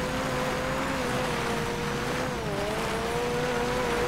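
A car in GTA 5 Online drives with a steady engine drone and a drawn-out tire squeal that bends in pitch, continuous and fairly close.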